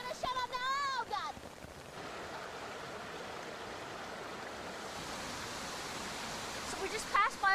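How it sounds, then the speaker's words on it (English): A waterfall in a gorge roars as a steady, broad rushing wash, with a person talking briefly over it at the start and again at the end. "So this is the waterfall, you see, and I'm a little wet"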